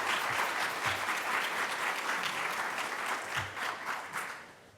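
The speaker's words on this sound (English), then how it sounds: "Let's give them a round of applause." Sustained, dense applause from an evening audience thanking panelists at an exhibit and magazine launch, full and steady throughout, easing slightly at the close.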